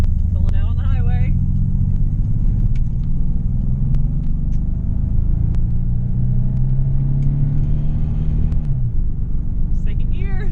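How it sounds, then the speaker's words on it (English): A barn-find Nissan 300ZX twin turbo accelerates onto a highway, its engine rising in a loud, steady rumble through the gears alongside road noise, with brief voices in the cabin. "Pulling out on the highway."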